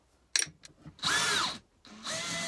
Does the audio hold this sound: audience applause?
no